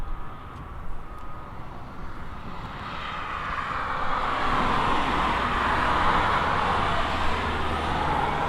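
Aircraft coming in to land in a crosswind at East Midlands Airport, a broad, steady engine roar that swells louder over the final seconds and holds there, with no voices.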